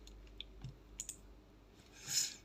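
A few faint, sharp computer clicks come in quick succession while selecting, deleting and pasting in animation software, followed by a soft rustle, with no speech.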